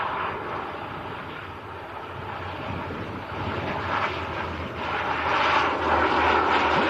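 Luxair Dash 8 turboprop in new livery, arriving from Luxembourg at Manchester Airport, heard as a steady, fairly loud propeller-engine roar that builds slightly toward the end, with some wind buffeting on the microphone.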